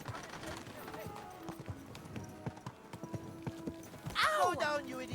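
Rhythmic hoofbeats of a galloping horse over soft background music, ending with a loud horse whinny, from the video game Kingdom Come: Deliverance 2.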